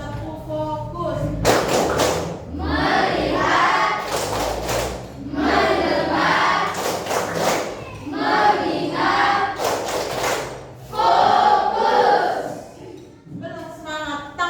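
A classroom group performs the 'tepuk fokus' clap routine together, sharp bursts of clapping in a rhythmic pattern mixed with chanting voices, loud and close.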